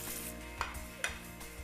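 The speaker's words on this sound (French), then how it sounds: "Et puis, il est temps de cuire la pancetta." Pancetta frying in butter in a pan, a faint steady sizzle with a few sharp clinks of a utensil stirring against the pan.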